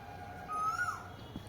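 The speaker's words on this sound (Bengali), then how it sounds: "হ্যাঁ, কোকিলের ডাক।" An Asian koel gives a single faint, distant whistled call in springtime, standing alone over quiet background hiss.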